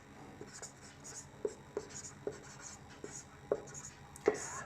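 A pen writes a maths solution on paper, with soft scratching strokes and a series of small taps spaced about half a second apart, close and quiet.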